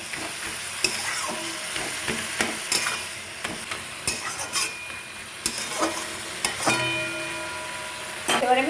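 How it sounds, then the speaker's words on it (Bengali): Pointed gourd (parwal) sizzles in a pan while being stirred, with frequent sharp clinks and scrapes of the spatula against the pan over a steady fry, close up. "এবার আমি খুব সুন্দর করে পটলটা নেড়ে নেড়ে ভাজা ভাজা করে নেব"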